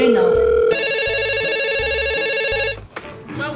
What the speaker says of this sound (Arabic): هو بيرن اهو